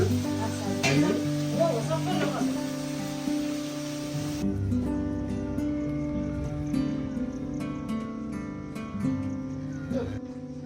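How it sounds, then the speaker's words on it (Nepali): Meat frying with local timur pepper in a pan, a steady close sizzle running throughout with occasional stirring, voices talking over it. "हाम्रो दिदीले पकाउँदै हुनुहुन्छ लोकल टिमुर राखेर"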